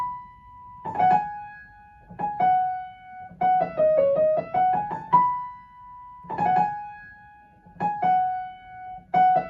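A piano plays a song at full tempo, with a sustained high note, repeated chords and a short descending run in a clear, close, solo phrase that repeats, with no voices.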